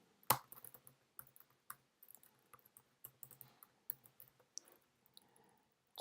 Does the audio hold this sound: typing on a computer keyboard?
yes